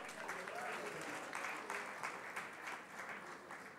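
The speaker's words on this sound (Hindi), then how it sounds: "मुझे लगता है जोरदार तालियों से एक बार तो स्वागत हो ही जाए." Audience applause welcomes speakers at a sanitation talk event with the actor Akshay Kumar; steady, dense clapping fills the room without a break for several seconds.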